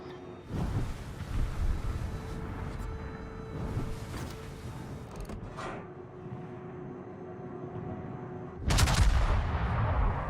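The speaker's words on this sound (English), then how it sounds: "I open up with my secondaries because the primaries" Naval secondary guns firing in the World of Warships game, with a steady roar of battle and several loud booming bursts, the strongest near the end.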